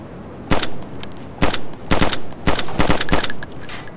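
Gunfire in the video game DayZ crackles in sharp, loud shots, first single reports spaced apart, then a quicker volley of rapid bangs.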